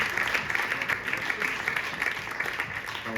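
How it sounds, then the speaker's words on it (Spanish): Audience applause during a talk on the painter Eduardo Rosales at a cultural centre in Madrid, a steady moderate patter of many hands lasting a few seconds. "No, yo creo que hay que aplaudirle."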